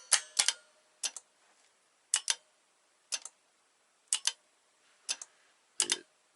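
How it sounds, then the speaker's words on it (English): An antenna relay in a step-start controller module keys repeatedly, giving sharp, crisp double clicks roughly once per second, close and alone in a quiet room. "this relay is going to key"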